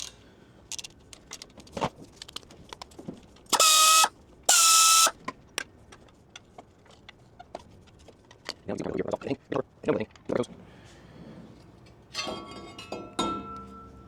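Slide pin bolts are loosened on a Jeep TJ front brake caliper: two short, loud buzzing bursts of a tool, followed by scattered metallic clinks and rattles of tools.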